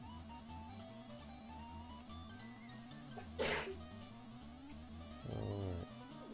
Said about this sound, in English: It's to my wife who just sneezed.